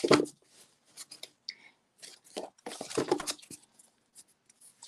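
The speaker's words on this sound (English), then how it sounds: "I'm just shuffling." A deck of large 4 by 6 inch oracle cards being shuffled by hand, short papery riffles and slaps coming in irregular bursts with quiet gaps between, close and fairly soft.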